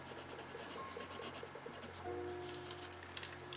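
A pencil scribbles steadily over transfer paper laid on black paper, a soft continuous scratching rubbed back and forth at close range under a faint background hum.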